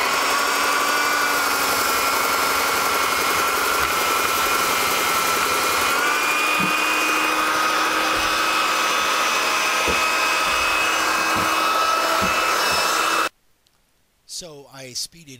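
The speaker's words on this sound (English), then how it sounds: "now I'm using my 80 grit belt with my little armadillo sander and taking off the rest of the black" A small belt sander with an 80 grit belt grinds steadily across a carved wooden sign, a loud continuous whine that runs for about thirteen seconds before cutting off abruptly, followed by a brief faint shuffle.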